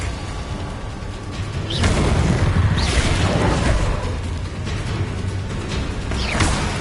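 Spell blasts in Hogwarts Legacy erupt as rumbling booms with whooshing streaks, a loud, sustained roar of several impacts that swells and lingers, with no speech.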